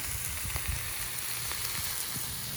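A chicken chili relleno sandwich sizzles on a Blackstone flat top griddle, giving a constant close hiss with small crackles and soft pops throughout, no voices.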